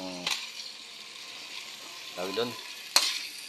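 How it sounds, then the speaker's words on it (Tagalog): Ginisang sayote, sautéed chayote, being stirred in a pan, a soft continuous sizzle with scraping under brief talk and one sharp clink of the utensil. "haluin lang natin"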